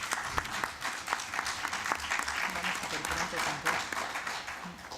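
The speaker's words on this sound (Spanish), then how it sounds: "también se escuchan desde acá los aplausos que por las redes nos llegan" Audience applause after a talk on inequality and sexism in social networks, a dense, steady patter of many hands clapping close by, with a few louder individual claps and some voices mixed in.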